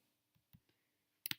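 A computer mouse double-clicks twice close together near the end, preceded by a few soft, faint taps, all quiet and isolated.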